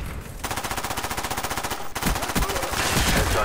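Rapid submachine-gun fire from Call of Duty: Black Ops rattles in a long, evenly spaced automatic burst, then a brief break and another continuous string of shots, loud and close.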